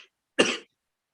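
One short, harsh cough bursts out close and clear in near silence, lasting about a quarter second.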